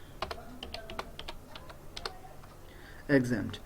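Quick, irregular keystrokes on a computer keyboard while entering a voucher in Tally ERP 9 accounting software, a run of close, crisp clicks that stops before someone briefly speaks.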